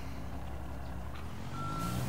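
A truck in Construction Simulator 22 backs up, its reversing alarm sounding a clear beep over a steady low engine rumble.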